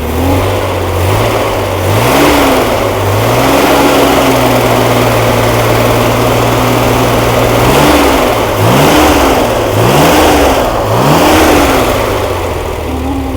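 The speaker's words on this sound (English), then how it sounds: "Fan bearing making noise" A basket-case 140 engine test fires, running loud and close with rising and falling revs while a worn fan bearing whines through a steady wavering tone.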